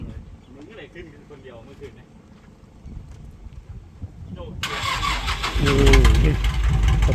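A farm vehicle engine with a side-mounted starter cranks and catches, rising into a loud, rumbling idle that stays close and steady. People talk over the quieter opening before the engine starts.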